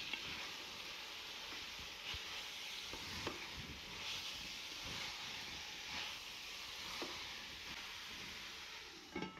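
Thotakura (amaranth leaves) and mutton curry stirred in a pan, a steady close hiss and sizzle with soft scraping strokes and occasional light clinks running continuously throughout, no voices.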